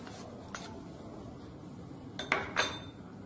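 Chopped onion and green chilli go into mashed tomato with a few soft clinks and scrapes of a metal spoon against a bowl, close and fairly quiet.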